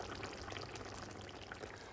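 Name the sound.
pouring salmoretto sauce onto browned chicken in paella pan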